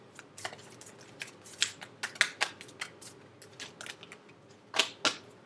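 Crisp, rapid flicking and snapping of tarot cards being shuffled, in short bursts with brief pauses, close and fairly quiet.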